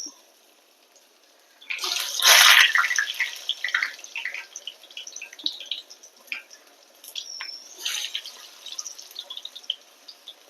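Water runs and splashes from a tap in bursts, close by, fading and returning over several seconds with no voices.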